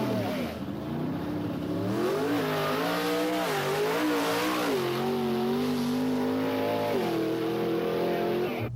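A GS Stage 1 muscle car engine revs up and down repeatedly, its loud, throaty roar climbing and falling in waves before settling into a steady high idle close by.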